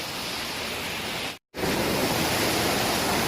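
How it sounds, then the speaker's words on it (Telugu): Ananthagiri waterfall near Araku Valley pours with a loud, steady roar of rushing water, broken by one brief cut of silence before the torrent resumes. "ఇంకా పైనుంచి అయితే వాటర్ ఇంకా బాగా పడుతుంది చూడండి ఫ్రెండ్స్ ఇవే వాటర్ ఫాల్స్"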